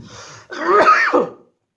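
A single harsh cough, loud and close, preceded by a brief breathy sound and ending abruptly in silence.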